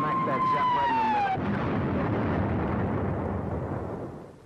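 A bomb strikes a ship: a falling whistle descends, then a heavy booming explosion rolls out as a long, loud rumble that slowly fades.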